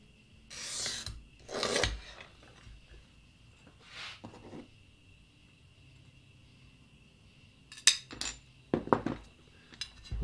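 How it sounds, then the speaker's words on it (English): A piece of stained glass is ground quickly on a glass grinder in short, rasping bursts, several brief close scrapes separated by quiet gaps, with a few clustered passes near the end. "Quick grind on it, but nothing too big."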